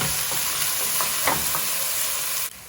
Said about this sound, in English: I'm going to add the chopped up onions. And the thing is to cook it on high heat for 4 to 5 minutes.